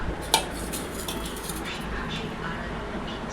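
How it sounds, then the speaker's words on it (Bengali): Dal being served onto rice on a metal plate, with a sharp clink of utensil on plate followed by soft scraping and stirring sounds over steady background noise. "এবার ডালটা ভাতে দিয়ে দিই।"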